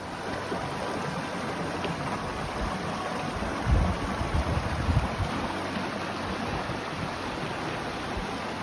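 A river rushes through a rocky gorge at a hiking crossing, a steady broadband wash of flowing water that holds throughout, with a few louder low surges midway and no voices.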